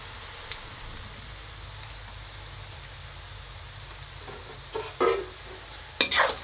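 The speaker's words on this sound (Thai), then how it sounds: "เราก็จะทอดไฟอ่อน ไปเรื่อยๆ แบบใจเย็นๆนะครับเพราะว่าเดี๋ยวมันจะขม" Red tilapia with lemongrass fries slowly in oil over low heat, giving a steady soft crackling hiss. A few sharper clattering bursts come near the end, with no voices.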